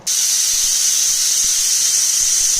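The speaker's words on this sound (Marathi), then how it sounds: "3 शिट्ट्या झालेल्या आहेत।" A pressure cooker on a medium gas flame lets out one loud, steady steam whistle that hisses without a break from start to finish, with no other sounds.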